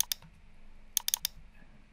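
A mouse clicks the OK button in the Kdenlive video editor, heard as two quick light clicks followed by a short cluster of four sharp clicks, close and crisp in a quiet room.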